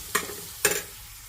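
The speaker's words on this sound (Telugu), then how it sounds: "ఇక్కడ ఉల్లిపాయలు తాలింపు పెడుతున్నాను అనమాట" Sliced onions frying in hot oil for a tempering, heard as two short, bright sizzling bursts about half a second apart over a faint background hiss.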